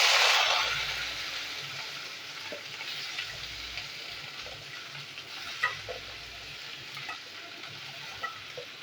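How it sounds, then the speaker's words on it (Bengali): Long beans frying in hot oil in a home kitchen, a steady broadband sizzle that starts loud and settles into a continuous crackle, with occasional stirring clicks from a utensil against the pan. "এই তেলে একটু আমি বরবটিগুলো ভেজে নেবো"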